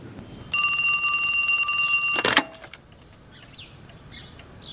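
An old-style telephone bell rings in a long shrill continuous trill for about two seconds, then cuts off with a clatter as the receiver is lifted, leaving a quiet room.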